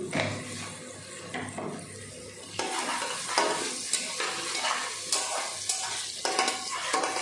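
Sugar stirred into hot oil for a local chicken pulao sizzles and crackles steadily, with scraping stirs and a louder, busier fry building partway through, close up and without talk.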